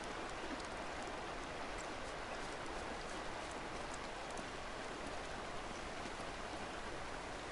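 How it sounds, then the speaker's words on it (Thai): Flowing water from a waterfall in Uncharted: Drake's Fortune, a steady, soft, broadband rush like rain or a stream, continuous and unchanging with no voices. "ได้ยินเสียงน้ำไหลนะฮะ"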